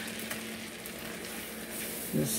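Flour sprinkled into a hot pan and stirred while making stuffed chicken rollups, giving a steady soft sizzle with faint scraping, continuous and fairly quiet throughout.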